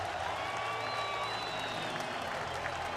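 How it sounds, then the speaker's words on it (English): Steady applause rises from a baseball crowd at a 2006 World Baseball Classic game between the Dominican Republic and Venezuela, a dense even wash with a faint voice and whistle tones layered over it. "listen to the applause for Santana"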